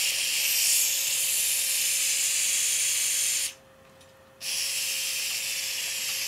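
Steamer hissing loudly and steadily while synthetic dreads are steamed through a cloth, with one brief pause near the middle before the hiss resumes.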